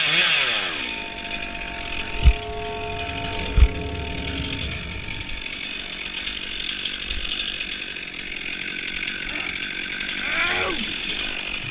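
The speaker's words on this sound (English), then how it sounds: "the chainsaw itself starts to leak fluid" A chainsaw runs steadily while cutting into a tree, its engine droning loud and continuous with a few sharp knocks early on, filmed up close from a climber's head-mounted camera.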